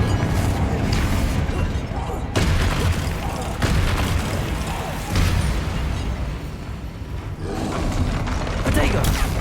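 Explosive spell blasts from the Hogwarts Legacy video game, a dense run of booms and bursts layered over game effects and talk, loud and nearly continuous with a brief dip near the middle.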